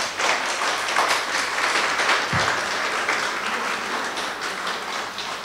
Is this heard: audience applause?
yes